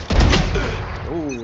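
A sharp, loud sniper shot in Valorant cracks at the start and rings out in a booming tail, then a brief voice cuts in near the end.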